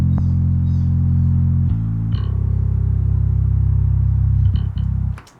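Fingerstyle Stingray 5-string bass with an Ableton EQ3 boost around 800 hertz for added body, playing loud sustained low notes with a few note changes before the tone fades out at the end, with no other sound.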